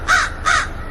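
Two harsh caws from a crow, close and loud, evenly spaced about half a second apart with a quiet low rumble beneath.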